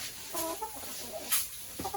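Chickens cluck in a small winter coop at minus 20 inside, short bursts of clucking and calls scattered across a couple of seconds, fairly close and clear with no talk.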